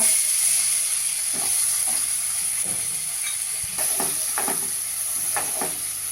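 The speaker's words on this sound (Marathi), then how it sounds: "जिरं फुललंय आता त्यावर आपण हा कांदा घालूया" Chopped onion goes into hot oil with bloomed cumin seeds for restaurant-style dal khichdi, giving a steady loud sizzle with a few soft stirring scrapes throughout.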